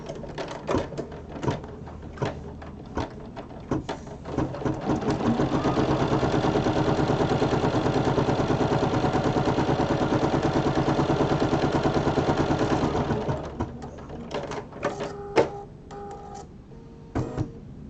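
An in-the-hoop embroidery machine stitches a seam joining two pieces of a mug rug, its motor running in a steady rapid rhythm for several seconds. Scattered clicks and taps come before and after the run.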